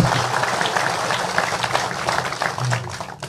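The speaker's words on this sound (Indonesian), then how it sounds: "Tepuk tangan semua." Steady applause from a gathered audience at a religious talk, a dense even wash of clapping lasting a few seconds without speech.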